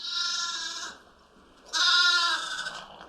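Young lambs bleat loudly and up close as they move from small pens into a shared nursery group: two long, wavering cries separated by a brief quiet pause.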